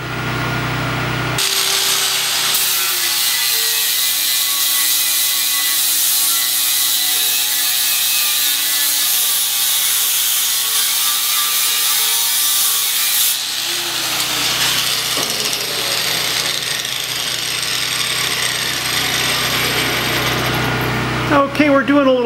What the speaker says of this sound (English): I'm going to go through with a 40 grit pad and strip down all the paint off this 4x4 piece of tubing